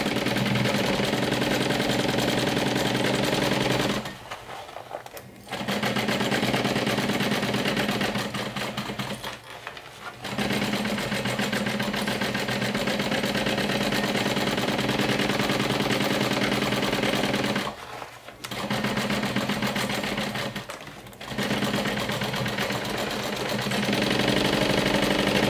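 A sewing machine stitches around the edge of a Haunted Mansion–inspired crossbody bag in long, steady whirring runs, stopping briefly four times before starting again, close and loud with no voices.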